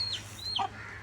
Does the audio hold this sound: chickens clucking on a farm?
yes